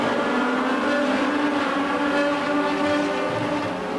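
Race cars on a track make a continuous, even roar of engines near the end of a heat race, steady and loud throughout with no one speaking.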